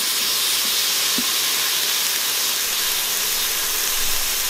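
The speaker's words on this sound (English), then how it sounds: "we've let those sizzle long enough" Steady, close hissing sizzle of onion and garlic browning in an Instant Pot for venison stew, constant throughout with no voices.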